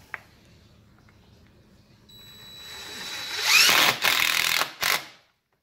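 Power drill driving screws to mount a screen door at the top of the jamb: a rising whine builds to a loud close burst, then two short sharp spurts with a brief pause between, ending in silence.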